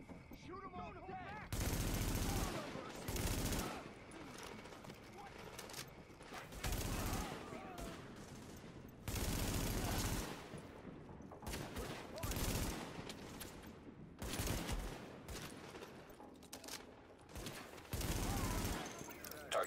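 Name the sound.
gunfire in video game Tom Clancy's The Division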